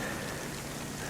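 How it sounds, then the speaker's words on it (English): Night rain in the DayZ survival game comes down as a continuous, even patter across the whole stretch, quiet and unbroken by talk. "You guys can probably hear that it's raining right now."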